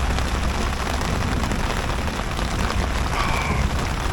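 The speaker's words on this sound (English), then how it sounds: "raining and huge thunders." Heavy rain at a motorcycle camping spot, a dense steady hiss of downpour with deep low rumbling thunder underneath, loud and continuous throughout.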